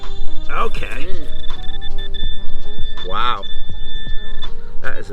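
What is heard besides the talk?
metal detector giving a deep tone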